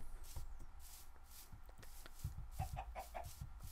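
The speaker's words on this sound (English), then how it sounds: "Chickens, I need chickens." Minecraft chickens cluck in short bursts over a steady patter of rain, with a few brief higher calls near the end and no talking.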